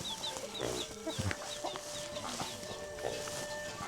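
Chickens cluck and a rooster calls in a rural village near the Vietnam border, a steady busy farmyard chorus with scattered bird chirps over soft outdoor background noise.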